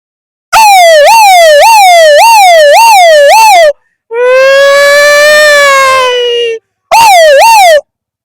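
A voice imitates an ambulance siren, loud and close, with a series of rising-and-falling wails, then one long steady held tone, then a short final wail burst.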